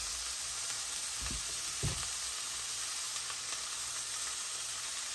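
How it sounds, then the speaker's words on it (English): Ground beef sizzles steadily in a hot pan, a loud, even hiss throughout with a couple of brief scraping stirs near the start. "Throw my beef in there. Hear that sizzle?"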